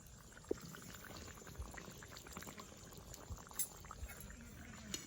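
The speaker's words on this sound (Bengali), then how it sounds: "এটা আমি আর ঢাকবো না, এটা আমি 2 মিনিটের মতন ফুটিয়ে নেব" Khoyra fish curry simmering uncovered in a pan with coriander leaves, a faint steady bubbling with occasional small pops and a light clink.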